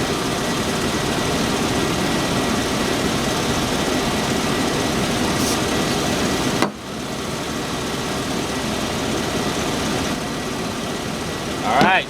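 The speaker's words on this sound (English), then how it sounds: "the compressor should stay running" A Chevy truck engine idles steadily with the A/C compressor running during a refrigerant recharge, a continuous low rumble close by, with a sudden dip midway and a brief hiss near the end.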